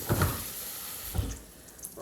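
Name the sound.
water running in a sink to rinse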